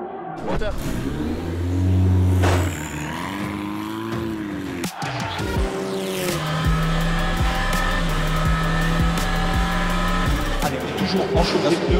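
A race car at the GP Explorer track event accelerates hard while warming its tyres, the loud close engine climbing in pitch, dropping briefly at a gear change, then holding a steady high-revving drone.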